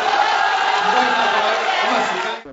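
A studio audience at a Hong Kong televised political debate forum shouts and roars together in a dense, continuous crowd clamor that fills the room, then cuts off abruptly at the end.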